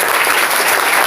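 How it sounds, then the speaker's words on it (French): A congregation at a French-language church service breaks into loud, dense, continuous applause that fills the whole short moment. "Applaudissons pour le Seigneur."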